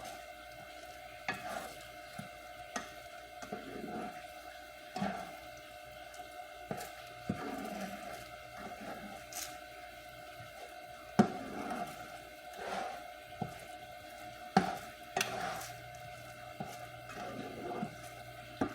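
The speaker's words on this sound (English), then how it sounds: "I'm doing scrambled eggs with the frozen eggs that I had in my freezer since October" Frozen eggs are scrambled in a pan with a soft, steady sizzle under them, while a utensil scrapes and stirs in irregular strokes, fairly quiet and close.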